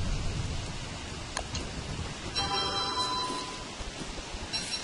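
Steady rain falls in the Don't Starve: Reign of Giants survival game, a soft, even hiss with a few faint ticks, heard alone and fairly quiet.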